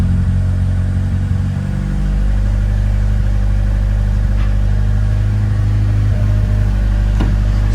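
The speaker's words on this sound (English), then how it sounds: "So I'm gonna let the car run a little bit and just make sure that it's working." A single-cam car engine idles nearby after a coolant temperature sensor install, holding a steady, loud, low hum with no revving throughout.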